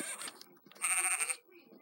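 Cartoonish sheep bleat from the video game Imagine: Babysitters, two short wavering cries in quick succession, clear and close with no other sound.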